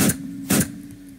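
Gunfire in the Roblox video game comes as two sharp shots about half a second apart, each a brief burst that fades quickly.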